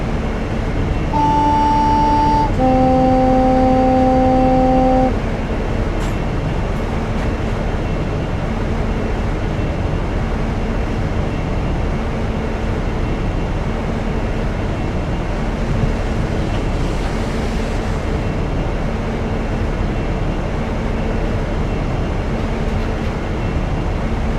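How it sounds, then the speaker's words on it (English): A train rumbles along steadily and loudly in Train Simulator Classic, with a brief two-tone horn blast in the first few seconds. The continuous low running noise persists throughout and no one speaks. "The sound of the train's not overpowering my voice."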